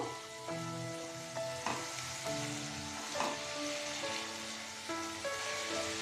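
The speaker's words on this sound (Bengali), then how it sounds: "সব কিছুকে খুব ভালোভাবে মিশিয়ে নেব যতক্ষণ না মশলা থেকে তেল ছাড়ছে ততক্ষণ ভালোভাবে কষিয়ে নেব" Spice paste with salt and turmeric sizzles in hot oil for an amudi fish dish, a continuous close fry hiss broken by periodic scraping stirs and faint tonal background music.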